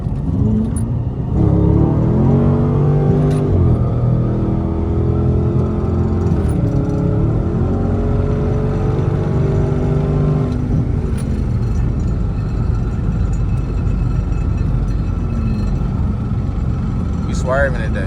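A Dodge Charger Scat Pack or Durango swerving through freeway rush hour traffic, a loud engine droning and revving up through rising gear pulls, then settling into a steady rumble, with a voice talking over it.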